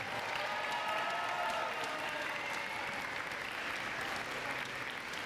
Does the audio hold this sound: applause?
yes